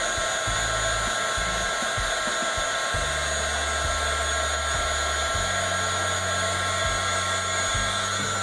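A heat embossing tool blows a steady, loud hot-air whine while melting embossing powder on a wedding invitation envelope, its motor pitch wavering as it moves across the surface, with no talking.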